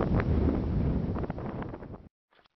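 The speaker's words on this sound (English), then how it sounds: "Very windy." Strong wind in Morocco's High Atlas mountains buffets the microphone with a loud, continuous roar for about two seconds, then cuts out abruptly, leaving near silence.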